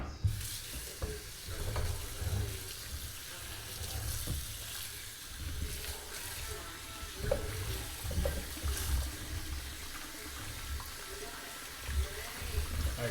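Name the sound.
rinsing potatoes under a running tap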